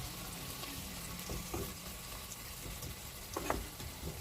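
Onions being stirred and sautéed in a pan give a steady, soft sizzle, broken by a few light scraping strokes of the spoon. No one speaks.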